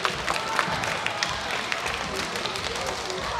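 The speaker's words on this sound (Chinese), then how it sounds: "你们掌声多的话" A theatre audience at a Chinese New Year gala in Seattle claps steadily during a rope magic act, a dense, moderately loud patter of many hands with no voices standing out.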